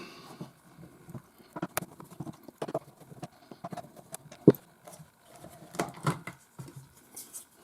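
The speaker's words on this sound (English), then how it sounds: "So we'll pull these 5 screws out." Screws being backed out of the motor housing of a Vax Blade vacuum cleaner with screechy motor bearings: sparse, faint clicks and scrapes scattered through a quiet room, with one sharper tap midway.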